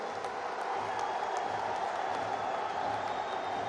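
Steady applause from a large audience at Narendra Modi's speech in Goa, a continuous even wash of clapping with faint crowd noise that holds throughout.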